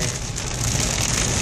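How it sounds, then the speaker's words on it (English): Rain falls along a road in the Philippines as a dense, even hiss that stays loud and steady throughout, with no voices. "First taste of rain here."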